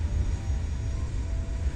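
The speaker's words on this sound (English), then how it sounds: "Why do I hear jets?" A steady, loud engine roar with a jet-like, airplane-like rumble comes from a fast car in the racing game Wreckfest, holding constant and continuous throughout without any talk over it.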